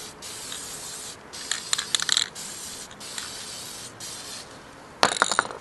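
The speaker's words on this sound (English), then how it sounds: "We'll come back with another coat of spray adhesive." Spray adhesive hisses from an aerosol can onto an HO scale model tree in several short bursts separated by pauses, close and crisp, with light mechanical clicks and a final louder burst.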